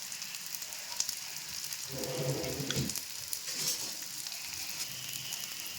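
A dosa cooking on a hot pan gives a faint, steady crackling sizzle, briefly rising into a louder frying burst partway through, with no talking.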